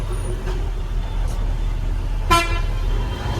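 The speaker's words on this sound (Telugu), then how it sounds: "ట్రాఫిక్ ఏందో, ట్రాఫిక్ ట్రాఫిక్ ట్రాఫిక్ మొత్తం." Busy road traffic with buses, cars and trucks, several short horn toots standing out over a steady engine rumble, one louder honk near the end.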